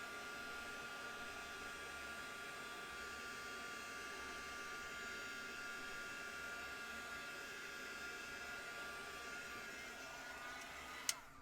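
A dryer blows steadily and evenly on wet ink, a constant airy whir with a faint tonal hum that holds for several seconds, with no talk over it.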